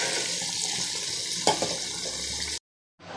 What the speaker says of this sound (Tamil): இப்போ இதில் கொஞ்சோண்டு தண்ணி ஊற்றி நம்ம இதை அலசி ஊற்றிடலாம்.